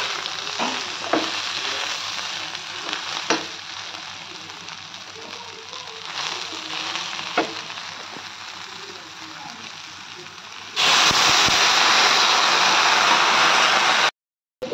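Chopped leafy greens frying in a pan, giving a fairly loud, dense hiss with occasional stirring clicks before a sudden burst of louder, steady sizzle that cuts off abruptly near the end.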